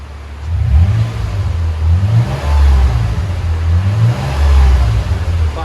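A 2019 Toyota 4Runner V6 with a Black Widow Race Venom exhaust revs up and down repeatedly with a deep, rumbling drone, loud and close, with no talking.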